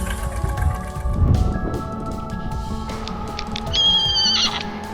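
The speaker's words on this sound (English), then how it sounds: "the heartbreaking cries for help from a young horse stuck in the mud" A young horse stuck in mud whinnies repeatedly, shrill and strained, with a longer high-pitched neigh near the end over a steady rumbling background.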